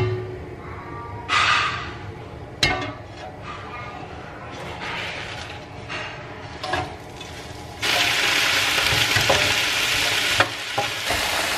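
Vegetables frying in grapeseed oil in a pan, a steady sizzle with stirring clatters and a louder hiss surging near the end, with a voice speaking over it at times.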